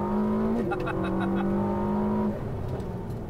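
A Ferrari SF90 XX Stradale's engine screams under hard acceleration on a race track, its pitch climbing and then dropping with a gear change before the note drops away, while someone talks over it.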